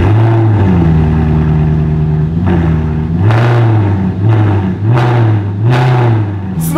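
A straight-piped, naturally aspirated 4.7 V8 in a Maserati California revs loudly in several rising and falling blips over a steady idle, close and unbroken, with no voices.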